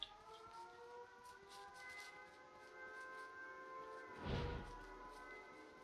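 A police car siren in the video game H1Z1 King of the Kill wails continuously at moderate distance with rising and falling tones, and a dull thud lands near the end.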